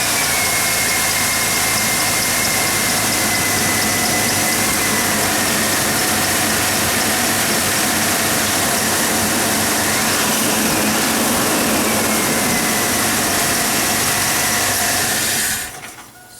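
A 2002 GMC Sonoma engine, just fitted with a new distributor, runs at a steady idle with a dense, even mechanical hum and rattle for over fifteen seconds before cutting off abruptly.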